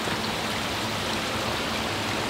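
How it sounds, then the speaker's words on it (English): Water spilling from the overflow pipe of a koi pond filter, a soft, steady splashing rush like a small stream, continuous and even with no talk. "So the water's overflowing out of that overflow pipe"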